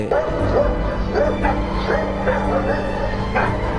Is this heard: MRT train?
no